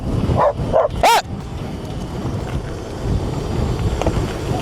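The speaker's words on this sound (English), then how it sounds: "That dog scared the f*** out of me." Dogs barking at a passing motorcyclist outdoors, two or three sharp close barks in quick succession followed by a steady rush of wind and engine noise.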